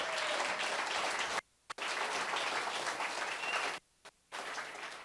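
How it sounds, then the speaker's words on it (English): A round of applause from the audience at a political event, steady clapping with two brief cuts to near silence, fairly distant and moderate in level. "please, round of applause"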